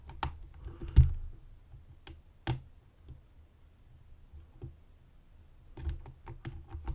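Vachette 7100 lock being picked, small sharp clicks and ticks of pins and tools scattered irregularly through quiet, close and faint.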